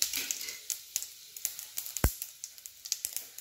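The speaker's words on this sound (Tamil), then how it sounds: "இப்போ இது கடுகு கொஞ்சம் பொரிஞ்சு வரட்டும், வத்தலும் கொஞ்சம் கலர் மாறட்டும்." Mustard seeds spluttering in hot oil while tempering for sambar: scattered small pops and crackles at an irregular rhythm, fairly quiet, with one sharper louder pop near the middle.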